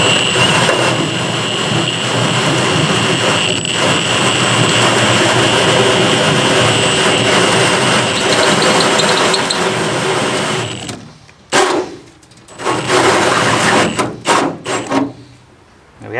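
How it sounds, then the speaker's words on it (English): A hole saw on a power drill cuts through the hull of a neglected fishing boat, a loud continuous grinding whine that runs steadily for about eleven seconds, then breaks into short bursts and stops. "drill a big hole in the boat."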